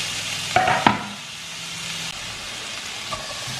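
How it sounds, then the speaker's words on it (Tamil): Apple pieces are tossed and sautéed in butter in a pan for an apple compote, a steady close sizzle with two quick stirring clatters early on and no talking. "ஸோ ஆப்பிளை வந்து லைட்டாக டாஸ் பண்ணி விடுங்க. ஒரு 2 மினிட்ஸ் நல்லா வதக்கிடுங்க."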